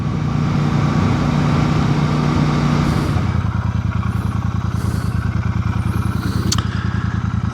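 Royal Enfield Super Meteor 650 motorcycle cruising along, a steady low twin-cylinder engine drone with wind rush that eases off partway through into a quieter, pulsing idle-like rumble.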